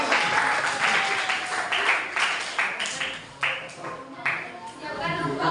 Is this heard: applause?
yes